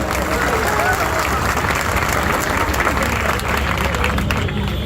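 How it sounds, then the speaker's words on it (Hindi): An audience at a public talk gives a loud, dense burst of applause, a steady wash of many hands clapping together for the full stretch with little variation. "आप अपने लिए तालियां बजाइए"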